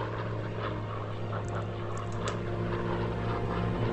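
A propeller warplane takes off from an aircraft carrier in the PS4 combat flight game Air Conflicts Pacific Carriers, giving a steady, loud engine roar that holds without a break and carries no talk.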